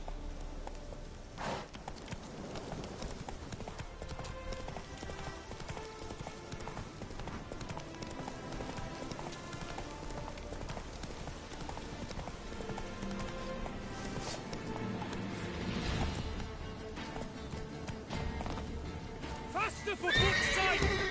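Horse hooves galloping in The Witcher 3 video game, a steady clip-clop running beneath orchestral music with voices talking over it and a brief whinny near the end.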